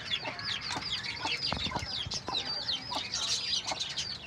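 Country chicken chicks peep and cheep in a steady chorus of high, rapid chirps, close by, with a few soft knocks and scuffles beneath and no talking.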